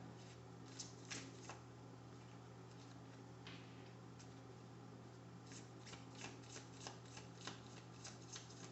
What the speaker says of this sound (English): You're pulling out your tarot cards now.